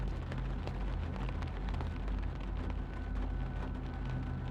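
Steady rain falls outdoors in a constant dense patter, even and unbroken, with no voices heard.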